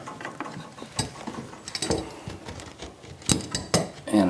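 Metal parts of a Moen deck-mounted Jacuzzi tub faucet being dry fitted, giving a run of scattered clanks, taps and ratcheting clicks at close range, with sharper knocks toward the end and no talking.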